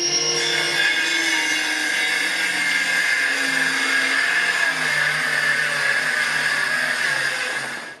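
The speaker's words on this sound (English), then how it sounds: "I'm just going to freehand it with this saw" A power saw cuts a trim strip for a Ford Ranger high-rise truck cap camper build, giving a steady, loud whining drone that runs unbroken for about eight seconds before easing off at the end.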